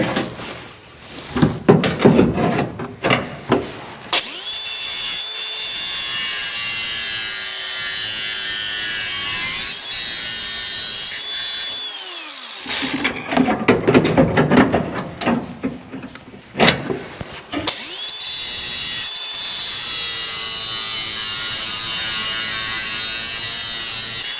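An angle grinder trims metal regulator mounting pieces in a workshop, the high whine running in long sustained passes with harsh bursts of grinding and brief pauses between, loud and close with no talk.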